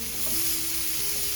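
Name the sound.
sausage starting to sizzle in a pan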